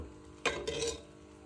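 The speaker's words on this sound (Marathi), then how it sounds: "आता आपण ती मिक्स करून घेऊ पाण्यामध्ये" A brief spoon stir through chana dal soaking in water, one short scraping swish lasting about half a second, close and fairly quiet, with no talking.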